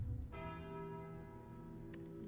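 Calling Bell relic in a video game ringing once, a single clear bell strike with a long, resonant ringing decay, alone and moderately quiet.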